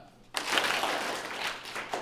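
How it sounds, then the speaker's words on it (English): An audience of eighth graders on a school tour claps once in unison: a sharp, loud burst of hands that is followed by a lingering wash of crowd noise and shuffling. "give me one clap"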